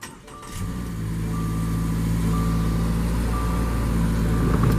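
A 2020 Subaru Crosstrek 2.0i Limited starts with a push button. The engine catches after a short crank and settles into a steady, even idle heard from close by.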